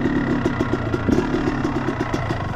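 A Yamaha YZ 325 dirt bike engine runs steadily in gear, a loud, close, continuous idle with a rapid pulsing rumble and no speech.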